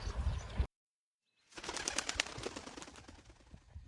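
A hoopoe arrives with a brief flurry of flapping wings, a close rapid fluttering burst rising after a moment of silence and continuing steadily to the end.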